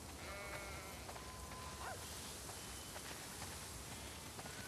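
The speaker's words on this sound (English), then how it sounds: "We definitely have way too many sheep." Sheep bleat on a farm in The Last of Us Part II, a few distinct calls rising over a steady wash of rain and outdoor ambience, moderately distant.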